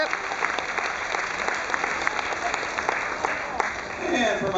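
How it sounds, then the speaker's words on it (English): Audience applause fills a stage hypnotist show aboard the Carnival Splendor cruise ship, a steady dense clapping with a few whoops that swells slightly toward the end, with a voice faintly audible over it. "Give them all a tremendous round of applause."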